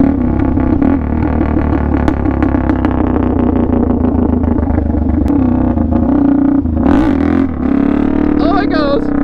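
A straight-piped Suzuki DRZ400 supermoto engine revs loud and harsh, holding a steady roar with sharp rises near the end, while voices talk over it.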